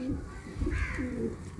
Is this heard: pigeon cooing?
yes